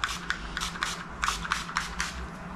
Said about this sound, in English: GHD heat protect spray.